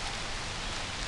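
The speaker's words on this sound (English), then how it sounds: "It's already raining." Rain falls steadily near Anna Ruby Falls in Helen, Georgia, a dense continuous hiss with no breaks and no voices.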